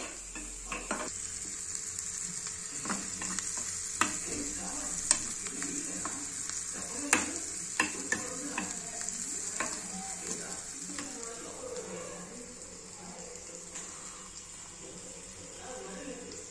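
Onions and pre-boiled eggs fry in a pan, a steady sizzle with frequent stirring scrapes and occasional utensil clinks against the pan, while a person talks now and then over the cooking.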